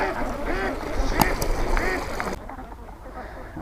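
Ducks on a large duck farm beside a fish pond, a few nasal quacks and honks at moderate distance over outdoor background noise, fading to quiet near the end.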